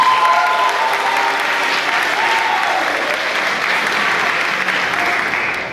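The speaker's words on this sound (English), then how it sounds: "Yes, you can applaud them." Audience applause at a high school talent show: a loud, dense, steady crowd clapping that holds for several seconds and eases slightly at the end, with no talking over it.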